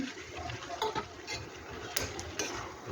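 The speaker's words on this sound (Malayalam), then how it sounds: "ശർക്കര ഒഴിച്ചിട്ടുണ്ട് അത് നന്നായിട്ടൊന്ന് മിക്സ് ചെയ്യുക" Jaggery and chopped jackfruit being stirred together in a pan for traditional jackfruit appam, with a soft continuous scraping and a few sharper utensil knocks against the pan, close and fairly quiet.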